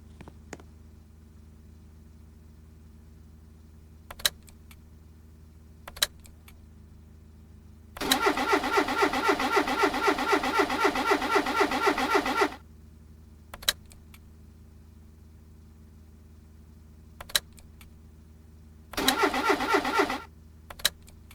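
A car in the Roblox game The Dusty Trip tries to start with no engine, giving two bursts of rapid, rattling starter cranking, about four seconds and then one second long, between sparse clicks over a low steady hum.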